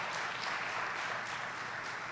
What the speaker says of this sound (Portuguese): Dá um aplauso a Ele aí em nome de Jesus, bem forte.